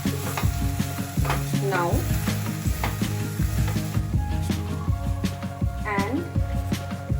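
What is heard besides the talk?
frying dal with vegetables in a pot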